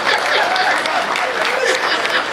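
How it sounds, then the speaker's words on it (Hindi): Steady applause from an audience at a live Hindi comedic storytelling show fills the whole stretch, dense and continuous at moderate loudness. "इतनी तालियां बहुत है।"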